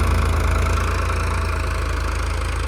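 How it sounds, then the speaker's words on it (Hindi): A tractor engine runs steadily in a farm field, a loud continuous low throb with an even rhythmic pulse and no voices. "और साइड साइड में ट्रैक्टर चल रहा है"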